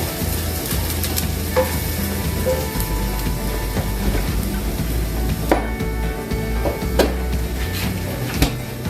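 Garlic sizzling and browning in a pan, a loud continuous crackle close by, broken by a few scraping clinks of a utensil stirring.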